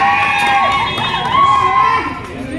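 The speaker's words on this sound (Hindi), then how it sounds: "अच्छा, वो मैजिक दिखा रहा है, उसके लिए वो चिल्ला रहे।" A crowd shouts and cheers loudly around a street magic show at Patwa Haveli in Jaisalmer, a dense continuous roar of voices with children's cries rising over it, close and steady throughout.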